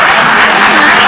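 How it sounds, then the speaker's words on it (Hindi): Loud, dense applause from an audience at an escape room reaction show, a steady burst of clapping filling the whole moment. "एक बार ताली बजाइए"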